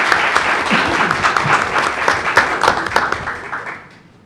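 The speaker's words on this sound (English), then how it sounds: "Let's give her a round of applause" Board meeting attendees applaud a student public-speaking award winner, a full burst of clapping with a few sharper claps standing out before it dies away.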